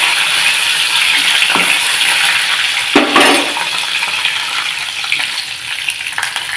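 Curry leaves dropped into hot oil for a chutney tempering, the gas turned off, give a steady, loud, close sizzle and crackle, with a brief louder spatter midway.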